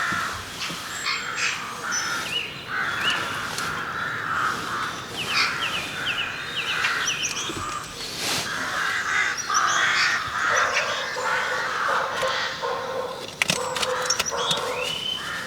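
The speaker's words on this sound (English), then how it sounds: "That higher pitch corvid, I'm not sure what that is. Whether it's carrion crow or rook." Corvids caw repeatedly outdoors, a higher-pitched carrion crow or rook calling in harsh, overlapping bursts over steady background noise, moderately distant and continuous.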